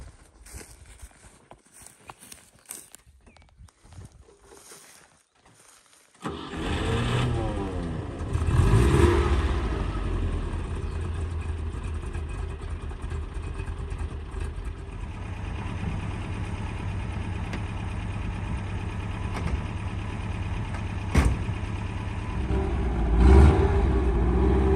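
A car engine runs steadily on an expedition drive back to a campsite in rural Russia, starting abruptly after quiet rustling and continuing as a loud, even drone with occasional bumps and rattles.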